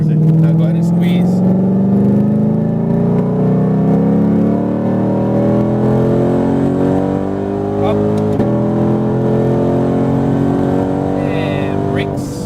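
A sports car engine revs and pulls hard on a race track, a loud continuous drone rising in pitch through the gears with a brief shift dip, while an instructor talks over it.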